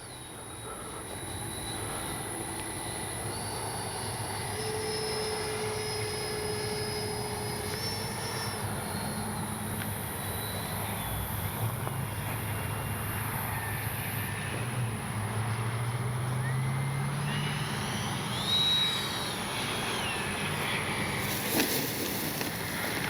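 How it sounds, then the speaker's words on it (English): An FMS Rafale 80mm RC jet landing on grass, its ducted-fan whine steady and moderately loud with shifting tonal sweeps, rumbling rollout texture underneath, no voices. "That was like a perfect grass landing."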